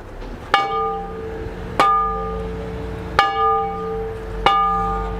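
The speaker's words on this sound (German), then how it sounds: "Das ist die Hausglocke" A shop's house bell at a model railway store rings four times at even intervals, each strike clear and resonant with a lingering tone that fades before the next.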